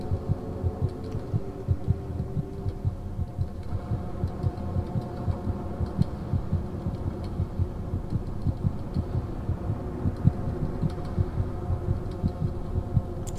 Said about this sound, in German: Ist das jetzt mein Herzschlag?